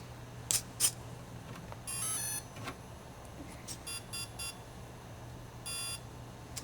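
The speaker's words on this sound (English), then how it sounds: "plug the helicopter in and listen for the series of beeps, allow the gyro to initiate" An RC helicopter's gyro initializing gives off a series of short electronic beeps in scattered bursts, some single and some held for a moment, faint against a steady low hum with no voices.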